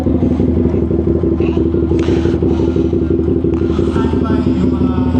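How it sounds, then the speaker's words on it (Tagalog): Motorcycles idle and rev at a dealership year-end test ride event, a steady close engine drone with clattering and scraping, while people talk nearby. "Maraming motor dito."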